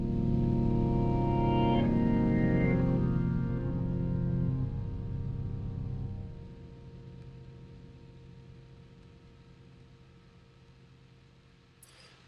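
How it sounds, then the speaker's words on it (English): Sampled guitar chords triggered through a sampler ring out as one dense, sustained harmonic chord that swells loudly, then decays over several seconds into a lingering low hum, with a brief click at the end. "using samples of various chords being played on the guitar."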